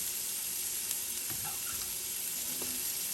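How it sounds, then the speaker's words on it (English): Chopped green pepper and onion sautéing in a pan, a steady close sizzle with faint stirring clicks underneath and no talk. "we want to kind of saute them for like 2 minutes"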